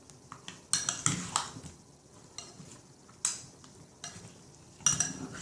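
Fruit filling with pineapple being mixed with a spoon in a bowl, soft intermittent clinks and scrapes of utensil against dish with quiet pauses between strokes.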